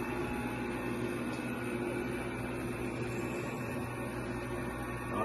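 Harvest Right freeze dryer running in candy mode, a steady low mechanical hum with an even hiss of fans and pump, constant and unchanging, no one talking.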